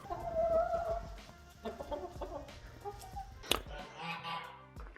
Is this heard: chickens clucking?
yes